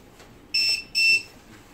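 Two short, steady electronic beeps sound in quick succession from a radio-controlled X-Maxx 8S truck. They are clear and fairly loud over a quiet background, with no talking.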